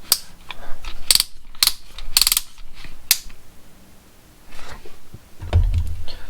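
Bit being pulled from the chuck of a Warrior cordless drill: a string of sharp ratcheting clicks and metallic rattles in quick bursts, close and fairly loud, then a low thump near the end, with no talking.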